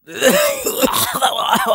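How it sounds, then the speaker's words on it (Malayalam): A heavy, phlegmy cough from a man with chest congestion, one rough throat-clearing hack that runs into strained, wheezy coughing and groaning, loud and close, with no talk over it. "കുറെ കുരക്കുമ്പോ ഒരു കട്ട കഫം കൊണ്ട് പോരും"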